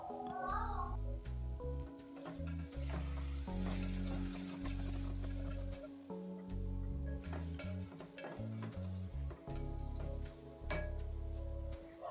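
Egg biryani masala mixed with curd is stirred in a pan, with a spoon scraping and clinking against metal over a soft sizzle, steady and close, under background music.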